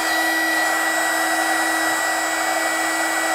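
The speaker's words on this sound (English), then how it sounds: "We've had the heat gun running on the bench now for about 5 minutes" A Tacklife HGP35AC mini heat gun runs on a workbench with a loud, steady, unbroken fan-and-heater roar and a fixed whine, close up and alone.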